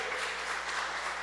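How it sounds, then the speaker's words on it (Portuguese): A church congregation claps in applause during a sermon, a dense, steady wash of many hands throughout the short moment, fairly loud and without speech over it. "Quem crê nessa palavra, dê palmas para Jesus."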